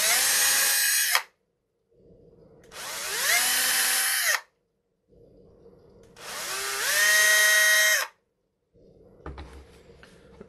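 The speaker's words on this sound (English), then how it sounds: "I'm gonna drill out those 3 holes." Three separate bursts of a small, high-pitched drill with a 1mm bit, each whining up to speed and holding for a second or two, with short quiet gaps between them.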